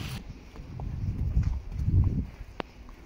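A horse walks with hooves clip-clopping in a steady, moderately close rhythm, the footfalls blending into a low rumbling background, with a single sharp click near the end.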